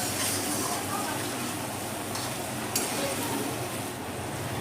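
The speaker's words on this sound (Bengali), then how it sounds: "একটু ভালো করে নেড়ে দেবো যাতে পুড়ে না যায় মশলাটা" Spice masala being stirred in a pan with a little water while cooking stuffed brinjal, a steady soft sizzle and scraping hiss running throughout at low level.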